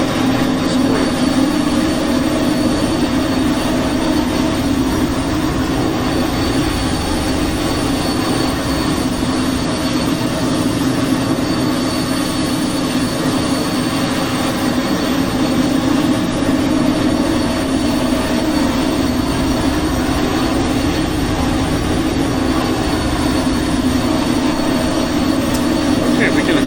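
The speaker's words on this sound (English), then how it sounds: "Engine sounds just great." Steady, loud jet engine drone of a Cessna Citation Mustang C510 in Microsoft Flight Simulator, a continuous broadband roar with a strong low hum that holds unchanged throughout without any talk.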